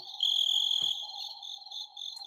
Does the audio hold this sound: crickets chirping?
yes